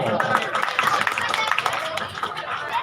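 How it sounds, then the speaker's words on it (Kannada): An audience claps at a village Kannada festival honouring ceremony, a brief patter of scattered applause running beneath a loud announcer's voice. "ಚಪ್ಪಾಳೆ"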